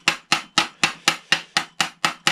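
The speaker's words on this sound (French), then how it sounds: "là c'est la technique au marteau" A hammer beats steadily on the end of a plumbing pipe to flare it. Nine sharp metallic strikes land close by at an even, brisk rhythm, each one ringing briefly, with no voices.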